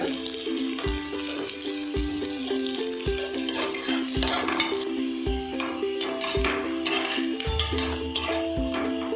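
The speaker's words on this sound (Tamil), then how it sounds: "ஆனியன் நல்லா வதங்கிடுச்சு." Onions sautéing in a pan for mutton biryani give a continuous sizzle, cut by regular low knocks of a spoon against the pan roughly every second. There is also a faint tonal hum in the background.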